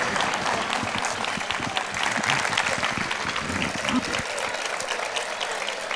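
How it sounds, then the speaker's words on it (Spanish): An audience claps steadily for several seconds, a warm wash of applause from a room full of people, at a folk song and dance group performance from Ingenio, Gran Canaria. "Un aplauso."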